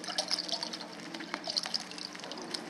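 Water scooped by hand from a river at a rocky bank, with soft close splashes, trickles and drips over a quiet outdoor background.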